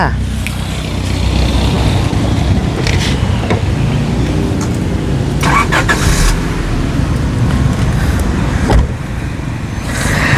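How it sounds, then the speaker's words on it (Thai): A Honda Accord engine idles steadily in a low continuous rumble, close and loud, with occasional brief clicks and knocks over it. "สตาร์ทเครื่องเรียบร้อยแล้วนะครับ คุณดูเสียงเครื่องยนต์เลยครับ"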